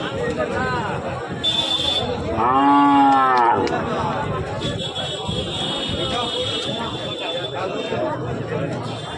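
A cow gives a long, loud moo amid the steady chatter of a busy cattle market crowd, with people talking throughout.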